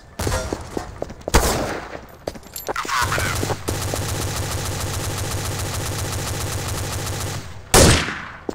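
Heavy automatic gunfire from Counter-Strike: Source on the de_ziba map, with two sharp single shots early on, then a long sustained rapid burst for several seconds, and a loud blast near the end.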